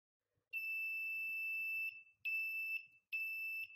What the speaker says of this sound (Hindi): जैसे ही प्रोफाइल ख़त्म होने को रहेगा तो यहाँ पे बजर आ जाएगा